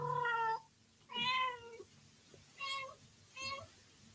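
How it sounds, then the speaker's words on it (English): A cat meows four times at a moderate distance, with drawn-out, rising and falling cries separated by short pauses, over a quiet room hum during a language class. "See this cat over here trying to."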